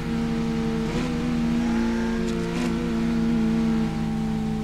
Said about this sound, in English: They got a turbo sound on here too. It's like a sound effect, so it ain't actually like legit.